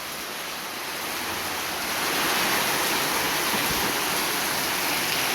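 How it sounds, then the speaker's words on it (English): Heavy rain pours steadily at a beach house build site in the Philippines, a dense, loud hiss that swells slightly after the first couple of seconds and holds without a break, with no voices. "What a rain."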